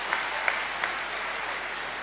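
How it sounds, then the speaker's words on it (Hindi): Audience applause greets a poet at a Hindi kavi sammelan recital, a dense, steady clapping from a crowd filling the hall, with a few sharper claps standing out. "एक बार जोरदार तालियों से आप उनका स्वागत करें।"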